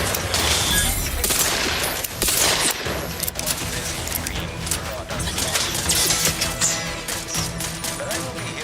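Sustained gunfire in The Outer Worlds 2 sci-fi game combat, dense overlapping bursts and loud crashing impacts filling the scene, with a voice speaking over the shooting.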